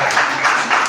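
Brief burst of applause from a church congregation, a close, loud wash of many hands clapping for under a second.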